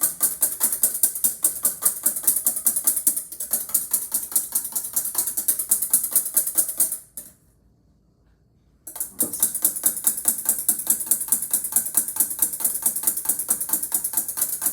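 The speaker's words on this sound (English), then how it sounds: "maybe a couple more whisks, and then we should be golden" Egg whites being whisked by hand in a bowl for apple fritters, a fast steady rhythmic clatter of whisk against the bowl that stops for about two seconds and then resumes at the same brisk pace.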